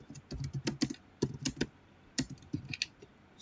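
Fingers type a short name on a computer keyboard, a quiet run of crisp irregular key clicks in small bursts with brief pauses, close by in a quiet room.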